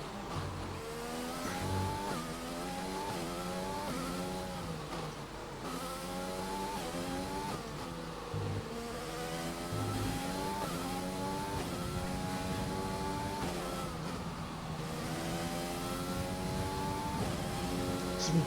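F1 2020 race cars roar around the track while overtaking, engines climbing through repeated upshifts in rising sweeps, each run cut by a brief gear change, with an occasional tyre squeal, loud and continuous with no talking.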